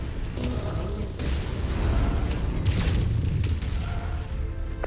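Missiles exploding in a mech combat video game, several booming blasts with crackling bursts over a rumbling low-end background, loud and dense throughout.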